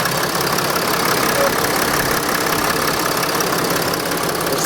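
Mercedes Sprinter van engine running nearby with a steady, dense mechanical clatter and faint rhythmic thunking, heard alone at a constant level.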